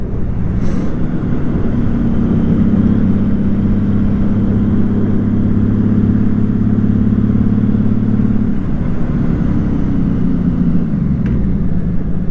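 Steady mid-pitched engine drone of a Honda Valkyrie motorcycle cruising along a lakeside road in the Adirondacks, loud and constant with wind rumble and a sustained tonal hum, no speech.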